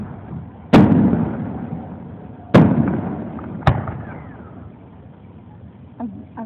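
A July 4th fireworks display in Easley, South Carolina, with three sharp booming bursts at moderate distance, each trailing into a rumbling decay, then a fainter pop near the end.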